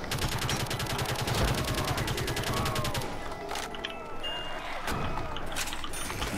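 Rapid automatic gunfire in a Call of Duty Black Ops custom zombies map, a dense fast-repeating burst for about three seconds, followed by scattered shots and game noise.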